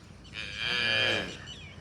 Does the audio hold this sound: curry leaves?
no